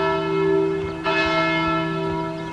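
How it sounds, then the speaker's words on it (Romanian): A church bell rings with a steady sustained tone and rich overtones, moderately loud, with a fresh strike near the middle that renews the ringing. "Oare ce-ar putea să aibă clopotul?"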